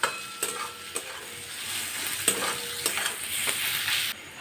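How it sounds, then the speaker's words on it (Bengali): Onions and garlic fry with salt in a pan for soybean kosha, a continuous close sizzle broken by several sharp spatula scrapes at irregular intervals, with no talking. "পেঁয়াজটা খুব ভালোভাবে ভেজে নিলাম।"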